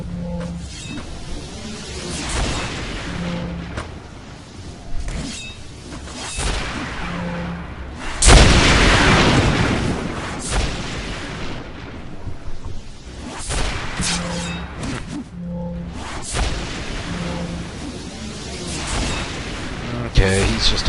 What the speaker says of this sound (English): that little explosion sometimes occurs when you do the foot stomp